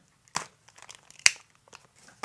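Plastic bag crinkled while being opened during a toy unboxing, a few sharp scattered crackles and rustles, close and quiet, with no talk.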